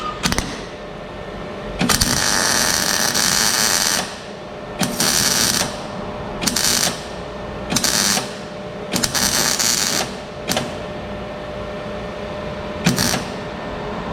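A welder tacks a cab rocker panel in a series of bursts, each a loud crackling buzz lasting from under a second to about two seconds, separated by short pauses.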